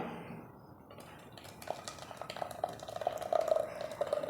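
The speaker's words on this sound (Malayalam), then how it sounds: "അപ്പോൾ ഇതിലേക്ക് നമുക്ക് ഒഴിച്ചെടുക്കാം" Juice poured through a strainer into a vessel, a soft steady liquid trickle with light clinks of utensil against pot, building louder toward the end, no talking.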